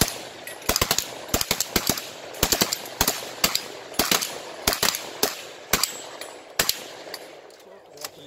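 Rapid gunshots ring out at a 3-Gun shooting match, sharp cracks in quick irregular strings and doubles spread across the clip, loud and fairly close, with no talk over them.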